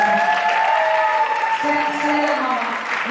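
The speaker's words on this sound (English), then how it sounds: "Can you give my mom a round of applause?" An audience gives steady applause for the singer's mother at a Latina music panel, with tonal voices and cheering carrying over the clapping.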